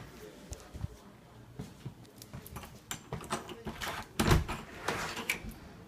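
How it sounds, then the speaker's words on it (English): A back door opens onto a porch with a muffled clunk and rattle of the latch, among soft footsteps and light household knocks at close range. "Now if we go out the back door,"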